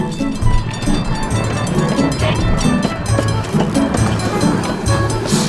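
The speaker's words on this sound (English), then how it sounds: "This amazing live steam train operates on a 15-inch gauge railroad" A live steam train on the 15-inch gauge Riverside Great Northern Railway in Wisconsin Dells rumbles steadily at close range, a loud continuous roar with rushing, hissing noise throughout.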